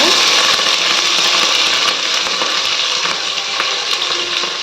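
Onions and green chillies frying in hot oil with cardamom, cinnamon and whole spices for a gongura mutton curry, giving a steady loud sizzle that stays even throughout with faint clinks.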